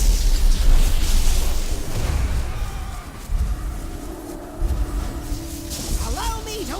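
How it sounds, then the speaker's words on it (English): Cluster cannon blasts go off in a World of Warcraft boss battle, rumbling booms that are loudest at the start and recur later, mixed with game effects and character voices. "Cluster cannon."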